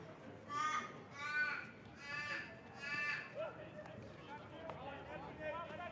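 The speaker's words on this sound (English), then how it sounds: "Now we've got a crow up here in the balcony" A crow caws four times in a regular sequence from up in the balcony at a men's Premier One field hockey match, loud and fairly close, with crowd and game noise continuing underneath.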